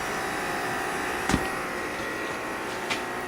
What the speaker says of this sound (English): It's a shoe dryer.